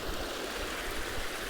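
Clear creek water flows steadily in a seasonal stream at Elk Ridge, a broad, even rushing and gurgling that stays close and constant throughout, with no voices.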